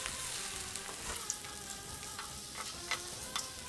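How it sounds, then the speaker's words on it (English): Sliced mushrooms sautéing in olive oil in a pan, a steady soft sizzle with occasional light pops and stirring scrapes, close and fairly quiet. "So the mushrooms have sauteed."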